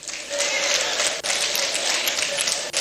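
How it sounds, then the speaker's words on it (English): Audience applause at a ministerial press briefing, a dense steady wash of many hands clapping for about three seconds, loud and close, with two brief dips in the middle and near the end. "You are clapping."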